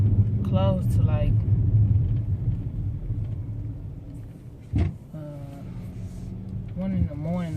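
Cars rumble past on a street outside a liquor store, a steady low traffic drone with a passing vehicle swell, heard beneath someone talking nearby.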